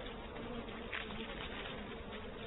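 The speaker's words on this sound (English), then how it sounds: "These two are honeybees. They made their hive in a hollow tree." Native Japanese honeybees hum steadily at their hive inside a hollow tree, a faint continuous buzz with no voices.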